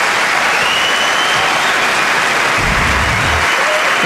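A tennis crowd applauds loudly and steadily after a hard-fought point between Ivanovic and Srebotnik, the dense clapping filling the stadium with a low rumble partway through.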